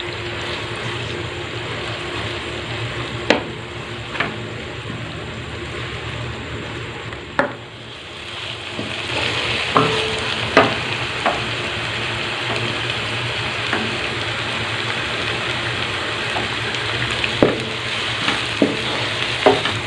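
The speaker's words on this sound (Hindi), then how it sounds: "अब हम इसमें चॉप की हुई प्याज डाल देंगे और इसको हल्का ब्राउन कर लेंगे।" Chopped onions frying in a karahi for gosht karahi, a constant close sizzle with occasional sharp clinks of a spoon stirring against the pan, no voices.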